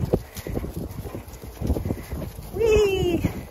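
Horses trotting in a line on a trail, a steady patter of hoofbeats with talk and a brief rising whinny-like voice near the end, fairly close.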